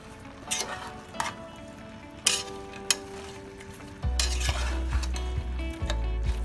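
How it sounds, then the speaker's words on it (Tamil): Chicken gravy with spices stirred in a pan, giving soft scraping and clinking spoon strokes with light sizzling, followed by a steadier louder frying hiss with occasional knocks. "இது எல்லாத்தையும் சேர்த்து ஒரு கிளறி விட்டுருங்க"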